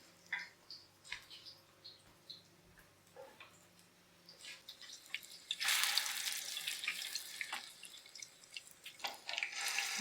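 A chicken paratha roll with egg is laid on an oiled tawa, where quiet scattered clicks and taps give way to a sudden, louder hissing sizzle that continues and fluctuates.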